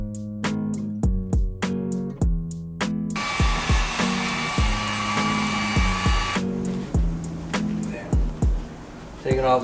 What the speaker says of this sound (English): So I got my trusty heat gun right here